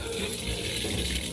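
Water gushes from an outdoor tap in a steady, strong flow, close by and without pause.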